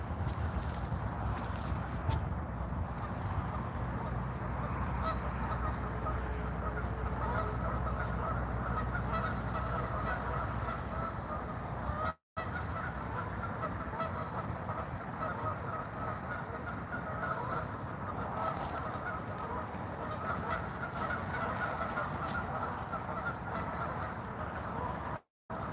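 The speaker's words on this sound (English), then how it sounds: "we got a bunch of geese making a bunch of noise over there" A flock of geese honks continuously beside the Delaware River, a dense, loud chorus of overlapping calls that carries on without pause, broken only by a brief dropout.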